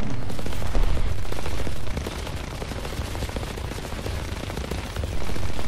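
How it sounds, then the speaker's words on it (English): Rapid bursts of aircraft machine-gun fire in a World War II flight combat video game over the Ruhr, loud dense rattling that runs almost continuously, dipping slightly in the middle before surging again. "I drop a bomb, and shoot at him"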